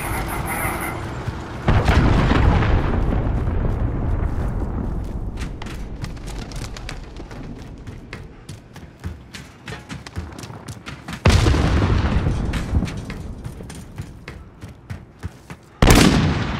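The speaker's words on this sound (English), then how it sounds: "Enemy cruise missile incoming." Cruise missile strike in Call of Duty: three heavy booming explosions, each a sudden loud blast that rumbles and fades slowly, with scattered gunfire crackling between them.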